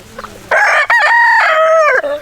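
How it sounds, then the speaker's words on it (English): A small rooster on a farm gives one loud, close cock-a-doodle-doo, a long harmonic crow with a brief break before its drawn-out ending, sounding alone. "RJ, you're a loud little rooster, you know that? You always crow when I'm trying to talk"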